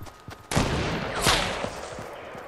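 Gunfire in the video game Fortnite on PS4, a sharp burst of shots followed by a second loud volley and scattered fainter reports, mid-distance, with no talk over it.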